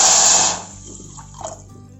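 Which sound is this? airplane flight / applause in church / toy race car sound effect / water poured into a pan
water poured into a pan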